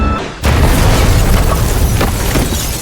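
A film bomb drops onto a house and explodes, a sudden loud boom that rolls on as sustained, rumbling blast noise for about two and a half seconds.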